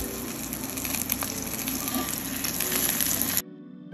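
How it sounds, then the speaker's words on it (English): Loud, crackling sizzle of meat frying in hot oil, dense and continuous with small pops, cutting off abruptly near the end. "Make sure your meat is sizzling like this."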